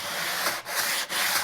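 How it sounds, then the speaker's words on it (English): Hand sanding of wood along the grain: steady, loud scratchy rasping in three long back-and-forth strokes, each separated by a brief pause. "So we're sanding parallel to the grain, with the grain,"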